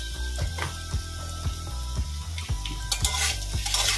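Ridge gourd, potato and tomato sizzle in a pan while being stirred, with a regular series of scraping strokes and light clinks about every half second over the continuous frying hiss.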